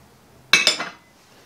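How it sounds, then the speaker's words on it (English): Two beaten eggs poured into a mixing bowl for cake mix cookies, heard as a brief double clink and splash of utensil against dish, close and alone in a quiet kitchen. "I'm gonna add the two beaten eggs."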